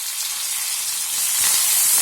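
Chopped onion frying in hot oil with mustard seeds, a dry chilli and curry leaves, giving a dense, steady hiss that swells slightly louder toward the end, close up with no voices.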